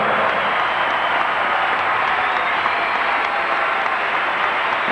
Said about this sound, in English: another huge cheer goes up for the bronze medalists from the United States